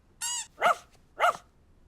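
A young dog barks up close in a quiet room: a high whining yelp first, then two short, clear barks evenly spaced apart.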